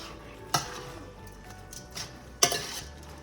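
A spoon clanks twice against a pot while jambalaya ingredients with whole bay leaves are stirred together, two sharp metallic knocks over a soft low simmer, otherwise quiet with no talk.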